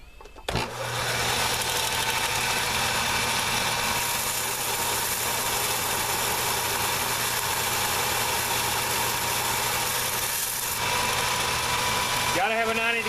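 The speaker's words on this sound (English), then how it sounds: "Then I take it and do a little bit of shaping on the sander here." A belt sander shapes a knife handle for an Old Hickory Kephart knife, running as a loud, steady whine and rumble that holds from start to end before cutting off.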